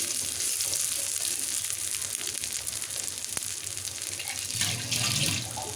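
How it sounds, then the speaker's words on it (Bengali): Fish roe fritters mixed with flattened rice, salt, turmeric, cumin and coriander powder fry in oil, giving a steady, close sizzle throughout that swells a little toward the end. "দিয়ে এখন বড়াগুলো ভেজে নিই।"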